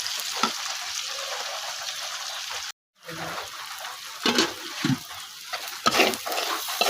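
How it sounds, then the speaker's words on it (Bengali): Onions fry with fish in a pan, a soft steady sizzle with intermittent stirring scrapes and a brief dropout partway through. "মাছ দিয়ে পেঁয়াজ লাল করতেছি একটু একটু করে"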